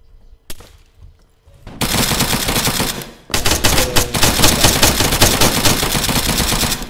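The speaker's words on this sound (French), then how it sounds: "Ouais, ça tire dans tous les sens." Gunfire in the Arma III video game during a building assault, a sharp isolated shot followed by sustained loud automatic bursts and rapid volleys filling most of the stretch, with a brief pause before firing resumes even denser.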